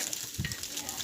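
A bread omelette frying in a pan and being turned over, giving a soft steady sizzle with a brief low thump from the flip.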